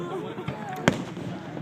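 Fireworks going off in Anaheim, heard as one sharp, loud bang standing out above a steady bed of background crowd noise and murmuring voices.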